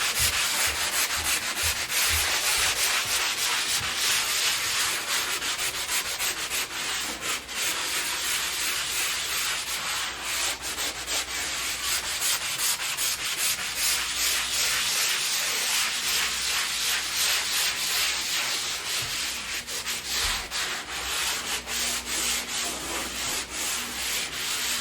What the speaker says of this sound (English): I'm going to sand it with a sanding sponge